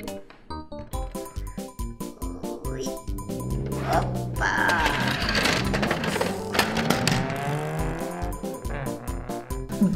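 Toy Ferrari car being played with at a toy repair station, giving rhythmic clicking and mechanical whirring that builds into a steady buzzing engine-like drone with squeaky tones, no talking.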